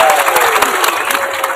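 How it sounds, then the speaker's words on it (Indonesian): Loud, dense applause from a congregation at an evangelistic revival service in Manado, steady clapping filling the space throughout, with a faint tone running beneath. "Tepuk tangan semuanya."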